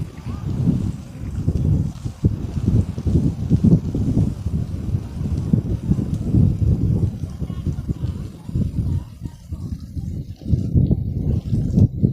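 Cool wind buffets the microphone in steady low rumbling gusts that last throughout, up close and fairly loud, while people wait on the beach at Hat Krathing Lai in Pattaya, Chonburi, during a clam-digging outing.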